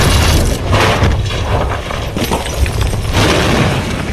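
A bomb blast from the film Valkyrie detonates in a conference room, rendered as a loud, sustained roar of breaking debris and shattering glass that fills the whole moment without letup.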